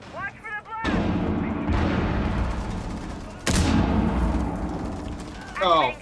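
A C4 charge detonates in Rainbow Six Siege: a sudden loud broadband blast with a sharp onset, followed by rumbling debris and sustained noise. Faint voices appear at the start and end.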